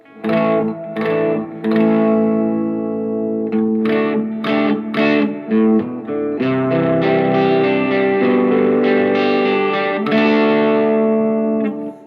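An electric guitar plays sustained chords and notes through a 2021 Vox AC15C1 amp with Greenback speaker, reverb at 50%, the tones ringing out and trailing off into a wash.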